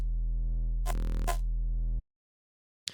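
Serum wavetable resampled from a bass sample, played as a sustained buzzy bass note for about two seconds with a brief brighter sweep in the middle, then it cuts off, followed by a short click.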